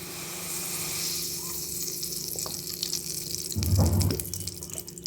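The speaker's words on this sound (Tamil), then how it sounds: "இதில் எண்ணெய் சேர்த்துக்குவோம்." Cooking oil is poured into a pan on the stove, a steady liquid rush building to a louder gush near the end, with a soft background hiss.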